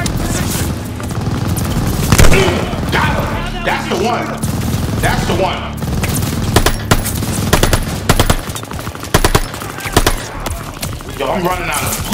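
Rapid machine gun fire and explosions in Call of Duty: Vanguard during a Rats of Tobruk campaign battle, loud repeated bursts mixed with game effects while a player talks over the action.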